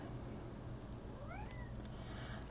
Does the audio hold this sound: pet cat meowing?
yes